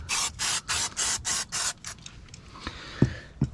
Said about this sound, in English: take a towel, spray some brake cleaner or chain cleaner around the areas where we did the oil